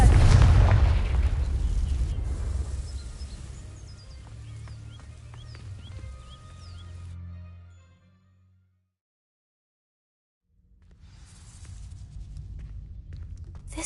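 A Confringo fire spell in Hogwarts Legacy ignites dry vines with a loud boom and crackling burst, fading into a quieter rumble, then near silence, before low ambient sound returns.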